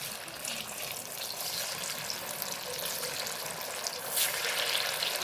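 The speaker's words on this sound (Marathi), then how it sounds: "बारीक गॅसवरती खुसखुशीत अशी वडी तळून घ्यायची." Alu vadi fries in hot oil over a low flame, giving a steady broadband sizzle that holds for several seconds, brightening and swelling slightly near the end, with no talk.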